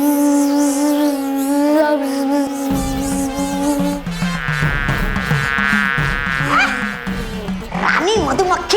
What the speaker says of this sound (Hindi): अभी मैं मधुमक्खियों की भाषा में उनको मित्रता का प्रस्ताव दे रहा हूँ।